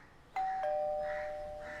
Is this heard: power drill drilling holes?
no